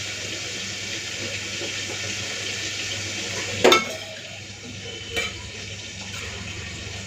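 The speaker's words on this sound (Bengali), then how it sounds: "মাছটা ভাজা হচ্ছে" Small tengra fish frying in a wok, a close, steady sizzle with two sharp clanks of a utensil against the pan.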